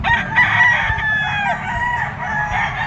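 A gamefowl stag crows at a rooster breeding farm, a nearby crow cutting over background clucking and other distant birds, with faint ambient noise throughout.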